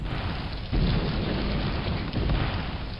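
A thunderstorm sound effect for a weather bulletin: steady heavy rain with a deep rumble of thunder swelling partway through, continuous and fairly loud.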